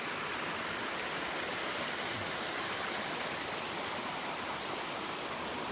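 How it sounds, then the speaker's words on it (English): Steady rushing roar of a waterfall near the Mount of Beatitudes, a dense, unbroken wash of falling water that stays constant and fairly loud throughout with no voices. "I love the sound of waterfalls."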